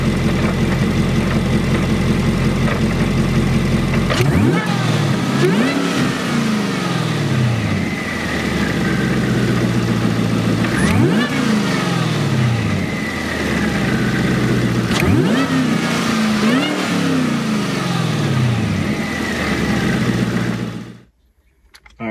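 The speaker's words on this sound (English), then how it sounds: "it'll sound like a rattle at normal, but it's done it ever since day one when I put the blower on this car" A Whipple-supercharged Chevrolet Camaro SS 1LE engine runs loud and close with a steady rumble and a slight rattle from gear backlash in the blower, rising in several revs before cutting off abruptly.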